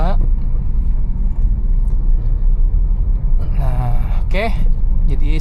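A manual car pulls away in second gear through heavy two-way traffic, its engine rumbling low and close while the driver speaks over it and other vehicles pass nearby.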